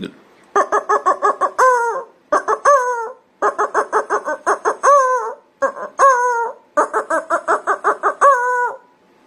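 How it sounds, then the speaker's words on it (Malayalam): A rooster clucks in rapid rhythmic runs, each run of sharp clucks ending in a drawn, wavering call; the runs repeat five times, loud and close with no other sounds. "പൂവൻ കോഴിയാണ് കൊക്കുന്നതെങ്കിൽ"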